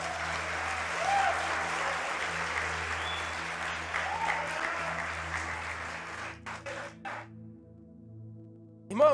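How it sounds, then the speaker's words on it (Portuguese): Congregation applauding a woman during a church service, a broad sustained clapping wash that thins out and drops away near the end, with organ-like tones lingering underneath. "Aplauda a senhora aí"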